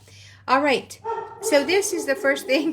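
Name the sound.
dog barking at landscapers outside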